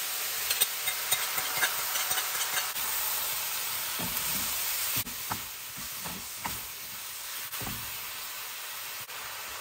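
Ground beef and mushrooms sizzle in a stir fry pan, a steady soft hiss broken by occasional scrapes and stirring clatters of a spatula, fairly close.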